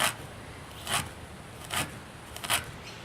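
A kitchen knife slices finely across lined-up strips of ginger on a board, giving three quiet, separate crisp cuts spaced under a second apart, with no talk.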